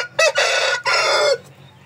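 Loud, harsh calls from large Indio Gigante and Shamo chickens in two long bursts close by, the second fading into quieter background.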